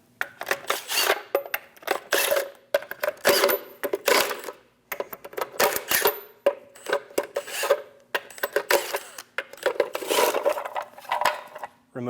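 Lug nuts come off a 2003-2025 Chevrolet Express 2500 wheel with a 22mm socket, heard as bursts of rapid ratcheting clicks and metallic rasping separated by short pauses, close and fairly loud with no talking.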